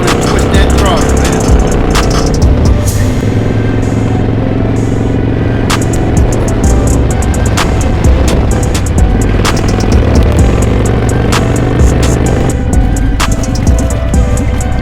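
Motorcycle engine running steadily with a deep throbbing low rumble and occasional throttle surges, broadband wind and road noise throughout, loud and close as riders cruise on a group ride.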